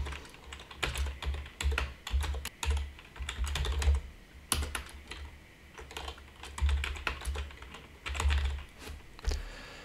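Rapid, steady typing on a computer keyboard while code is written, with clustered keystrokes and occasional louder key hits, close up and continuous with no talk.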